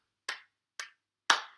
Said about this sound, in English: And then we have the children clapping their hands.